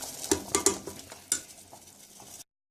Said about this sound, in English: That's why I keep stirring.